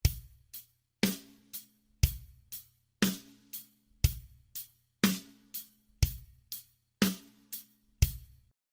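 A slow rock backbeat on a drum kit at 60 beats per minute: bass drum thumps, snare cracks on alternating beats, and steady hi-hat ticks, played alone and evenly for two measures.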